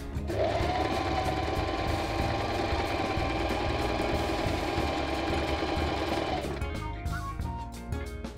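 A Singer M3205 sewing machine runs a straight stitch, a steady loud motor whir with a fast rhythmic hum that stops near the end, leaving quieter handling noises.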